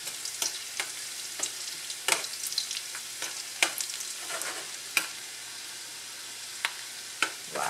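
Shallot and ginger sizzle steadily in hot oil in a pan, a continuous frying crackle punctuated by sharp stirring clicks and scrapes at irregular intervals, close and moderately loud with no voices.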